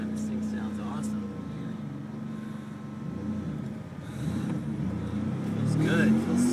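A Rossion Q1 with a single turbo engine hums steadily from the cabin on a first drive. The tone builds toward a louder rising rev near the end, and people talk over it.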